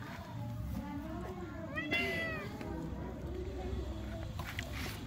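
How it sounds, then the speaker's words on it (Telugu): Pet cat meowing while fish is cut nearby, one clear drawn-out meow near the middle over a busy background of household noise and low talk. "కోయడం స్టార్ట్ అయితేనే మా పిల్లి అరవడం స్టార్ట్ అయింది చూడండి."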